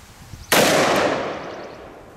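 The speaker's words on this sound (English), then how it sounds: "That's one heck of a gun right there." A single sharp, very loud shot from a Smith & Wesson 460ES .460 Magnum revolver, cracking suddenly out of quiet and ringing off into a fading echo.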